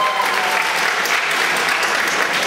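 Live concert audience applauding for the band at the FEstudIS 2009 student festival in Iasi, a steady dense wash of clapping throughout, no voices standing out.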